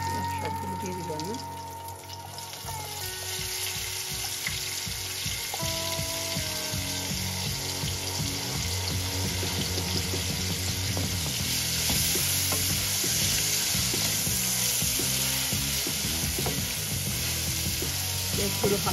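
Chopped onions sizzle steadily in hot oil in a home kitchen pan, a continuous frying hiss with occasional stirring scrapes, while a voice talks over it intermittently.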